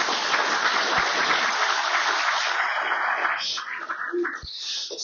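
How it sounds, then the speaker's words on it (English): A crowd applauds at a livestreamed talk on public finances, with a thick wash of clapping that starts strong and thins toward the end. "That also deserves a round of applause."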